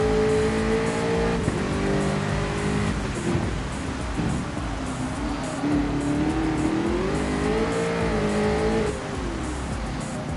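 Jaguar F-Type race car lapping Suzuka in the wet in a racing video game, its engine droning and revving steadily with pitch rising and falling through gear changes, loud and continuous throughout.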